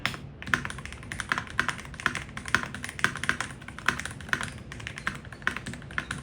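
Steady typing on a Hall effect magnetic keyboard with Gateron Magnetic Jade Pro switches, a quick stream of crisp, close clacks with brief pauses and no talking.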